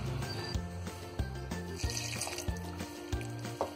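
Water trickles and splashes in small pours into a bowl of gram flour dhokla batter mixed with yogurt and lemon juice, a steady close liquid sound with background music.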